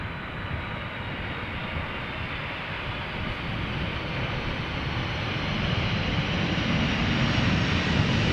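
Airliner jet engines roar at Amsterdam Schiphol Airport, a broad, steady rumble that slowly swells louder over several seconds, heard from a spotting position with no talk.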